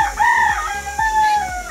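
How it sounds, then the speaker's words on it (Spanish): Rooster crowing loudly and close by at a family orchard in Honduras, a long falling crow under repeated low clucking from hens, with no talk. "Ay, miren las gallinas."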